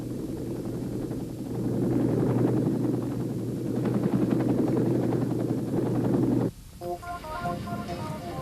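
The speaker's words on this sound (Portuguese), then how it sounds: "os helicópteros de resgate se aproximavam do ponto de salvamento" Rescue helicopters approach a pickup point during the Vietnam War, a loud steady rotor drone and low rumble lasting about six seconds before it cuts off abruptly into quieter tonal sound.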